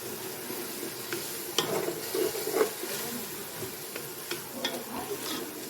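Masala of ground cumin and coriander powder with tomatoes cooks in a pan for aloo matar, a steady close sizzle broken by several louder scraping stirs, with no talking.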